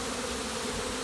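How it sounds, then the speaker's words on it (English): Honeybee swarm streaming out of a hive during a swarm, a dense, steady buzzing hum with no break, close and even throughout the short moment. "Usually takes about 5 minutes for the bees to pour out of the hive."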